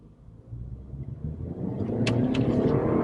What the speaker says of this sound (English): I'm going to mash the pedal, and you're going to see how long it takes for the turbo to actually spool up.